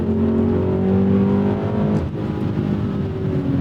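A 2002 BMW M5 E39 engine pulls hard under acceleration, a loud, steady, close-up drone that holds its pitch for several seconds with a brief dip partway through.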